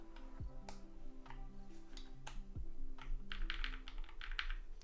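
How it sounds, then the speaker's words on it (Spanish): Mechanical keyboard being typed on, a TKD Cycle7 fitted with lubed BCP switches, producing irregular bursts of crisp, close clacks and thocks over a steady low hum, growing denser toward the end. "Pero el teclado suena tan bien."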